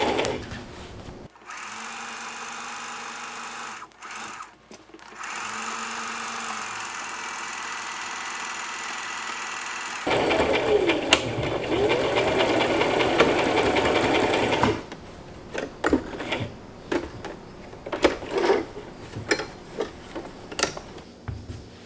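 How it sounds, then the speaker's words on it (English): A sewing machine runs stitches across a tote bag, its motor whirring steadily in bursts with brief pauses and a busier ticking stretch, close and loud with no talking. "foot down, couple of stitches, reverse, and good to go all the way across."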